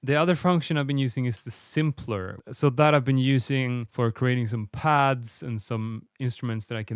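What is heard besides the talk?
None of the usual background noises is heard.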